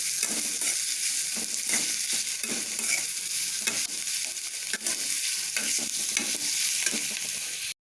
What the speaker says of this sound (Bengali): পেঁয়াজটা যতক্ষণ পর্যন্ত পিঙ্ক পিঙ্ক না আসছে ততক্ষণ আমি এটা ভেজে নেবো